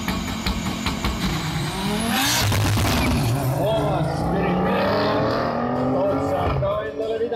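Race cars launching at a drag racing event, the EDRA Nationals 2015, with a loud continuous engine roar, a sharp rising whine as one car accelerates away, and an announcer talking over the noise.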